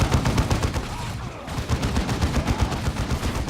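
Plasma guns fire in the Dawn of War II strategy game, a rapid, loud volley of shots with a brief lull before more quick bursts follow.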